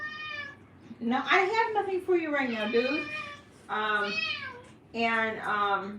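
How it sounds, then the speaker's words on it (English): A house cat meows repeatedly and insistently, several drawn-out, pitch-bending cries close by, with a person speaking briefly between them. "Excuse the cat."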